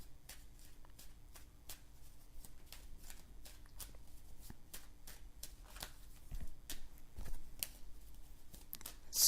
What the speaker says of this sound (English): I'm going to pull one more card for that.